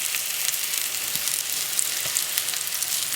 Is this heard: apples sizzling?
yes